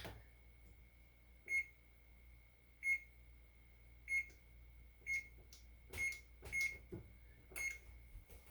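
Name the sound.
oven being set to preheat, control beeps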